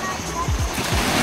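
Sea waves wash along a beachfront shoreline beside farm property, a rough surf and splash texture with low rumbling gusts, heard close under a voice talking.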